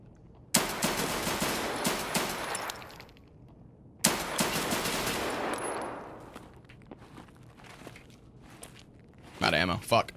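FN Five-seveN pistol fired in Escape from Tarkov, two sharp bursts of rapid gunfire a few seconds apart, each ringing out and fading, followed by a brief clatter near the end.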